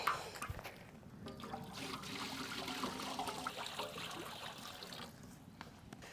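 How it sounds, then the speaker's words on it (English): Water is poured into a bowl of Oreo biscuit powder and milk while mixing dough for a Swiss roll, a faint, close trickle that runs for several seconds. "Water."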